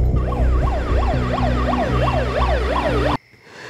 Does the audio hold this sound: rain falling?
no